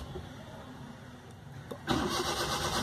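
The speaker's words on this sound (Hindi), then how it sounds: "गाड़ी में क्रैंक की आवाज़ आ रही है लेकिन गाड़ी स्टार्ट नहीं हो पा रही है" A Maruti 800 with a faulty starter relay cranks without firing, a mid-pitched engine sound that grinds up abruptly near the end after a quieter lead-in, close and fairly loud.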